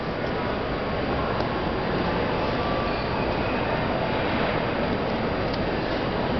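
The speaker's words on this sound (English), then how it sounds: "There goes a freight train." A freight train rolls past Union Station with a steady, unbroken roar and rumble that holds at the same loud level throughout.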